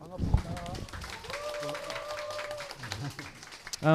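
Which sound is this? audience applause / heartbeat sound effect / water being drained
audience applause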